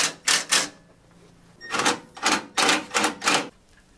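A small ratcheting closed-end wrench tightens radiator corner bolts on a 2005 Nissan Frontier, giving clusters of quick metallic clicks in short bursts separated by pauses, close and clear.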